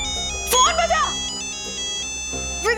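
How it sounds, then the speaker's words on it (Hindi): A mobile phone ringtone plays in a comedy scene at home, a steady electronic melody with tonal sweeps that sounds throughout, with brief voices mixed over it. "प्लीज प्लीज फोन बजा।"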